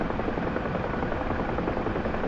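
UH-1H Huey helicopter in the DCS flight simulator, a steady loud rotor and turbine drone filling the whole stretch without a break, with no talking over it.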